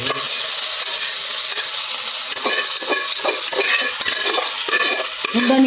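Boiled mutton stir-fried in oil in a pan for a village-style mutton fry, giving a loud continuous sizzle broken by scraping and stirring clatter toward the end, with no talking.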